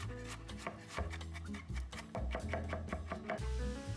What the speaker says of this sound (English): While those are cooking, I'm going to mince some garlic